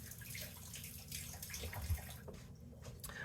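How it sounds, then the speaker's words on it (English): Tap water runs into a kitchen sink while raw shrimp are rinsed under it, a soft, steady splashing that is fairly close and stays quiet throughout. "Now we can go over here to the sink and just wash that out."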